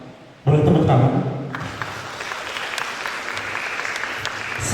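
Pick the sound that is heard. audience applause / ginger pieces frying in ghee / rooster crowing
audience applause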